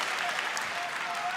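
An audience at the Olivier Awards in London applauds, a brief, steady, full wash of clapping with no distinct individual claps.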